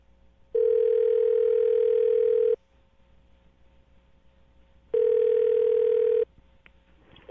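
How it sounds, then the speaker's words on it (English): A loud, steady telephone dial tone sounds twice, each burst lasting a couple of seconds, separated by a quieter gap with faint background noise. "I'm going to dial the phone number right now and get him on the phone"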